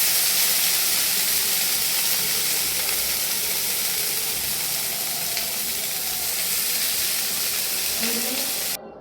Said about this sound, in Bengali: চিংড়ি মাছগুলো হালকা ভেজে নেব